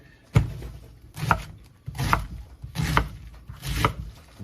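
A knife slicing homemade corned beef into half-inch slices on a cutting board, five distinct chopping thuds at a slow, even pace, close and clear with no talk.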